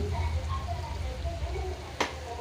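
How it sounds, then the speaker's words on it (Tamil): Crushed garlic sautéing in a pan gives a steady close sizzle and frying hiss, with one brief clatter near the end as it is stirred. "பூண்டு தட்டினது போட்டுக்கலாம் அப்படியே நல்லா பச்சை வாசம் போகிற வரைக்கும் வதக்கிக்கலாம்"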